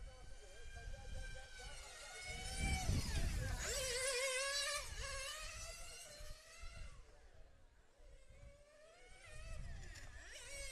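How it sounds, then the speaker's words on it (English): A 1/8 scale nitro RC car alone on the track at a European championship qualifying session: a faint, high-pitched engine whine rises and falls as it laps at a distance, under commentators talking. "now he's the only car on track. Everyone can hear his engine."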